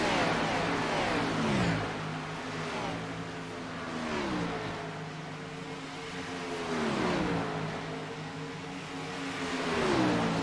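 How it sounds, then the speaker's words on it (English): Race cars roar around the Eldora dirt track at a Thursday night race, engines rising and falling in repeated swells as they rev through the corners and pass, loud and continuous with no clear talk. "Side by side into 3. And McLaren puts the 88 out front"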